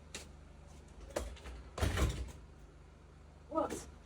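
A door is shut indoors in a home, giving a solid thud in the middle after a couple of lighter knocks and handling sounds, with a brief voice fragment near the end.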